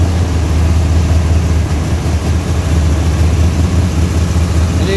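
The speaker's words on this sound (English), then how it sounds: "Right now we have the idle set where it's idling right around" A Pontiac car engine, not fully warmed up, idles steadily around 1,200 RPM with a low, even rumble, close by and continuous, with no voices.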